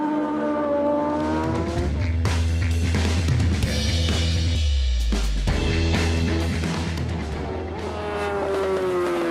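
Big superbikes racing during North West 200 road racing practice, engines screaming loud and close with rising and falling pitch as they pass and shift gears, continuous throughout.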